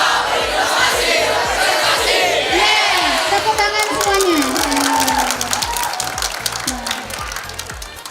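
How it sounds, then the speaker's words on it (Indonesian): A crowd at an SMKN 11 Batam school event applauding, dense sustained clapping and cheering that slowly fades, with a voice carrying over the noise. "Tepuk tangan semuanya."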